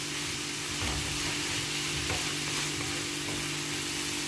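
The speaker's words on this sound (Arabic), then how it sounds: "كنخليهم يطيبو مزيان من هاد الصلصة هادي." Taco filling with spices, turkey and sauce frying in a pan gives a steady, close sizzle with soft bubbling and faint stirring, no voices.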